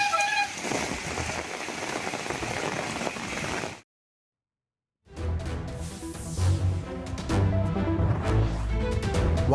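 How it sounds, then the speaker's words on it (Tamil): Heavy rain pours down in the Tiruttani area of Tamil Nadu as vehicles crawl along with headlights on, making a loud, dense hiss that breaks off into a moment of silence before resuming. "திருத்தணி மற்றும் சுற்றுவட்டார பகுதிகளில் வெளுத்து வாங்கிய கனமழை."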